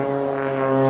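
Jet-powered Pitts biplane climbing in vertical manoeuvres at the Teignmouth Airshow 2023, a loud, steady, droning engine roar with strong harmonic tones, sustained throughout and growing slightly louder at the end.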